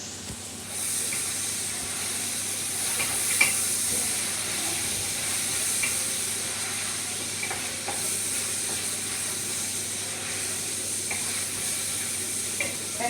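A spoon stirring a pot of beef or vegetable stew, a soft scraping under a steady sizzle and hiss from the pot, continuous and fairly close with no talking.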